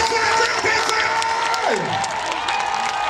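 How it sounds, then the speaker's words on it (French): A church congregation at a prophetic healing service cheers and applauds loudly, a dense wash of clapping and shouts with voices rising above the crowd, close and continuous throughout. "Acclame plus fort."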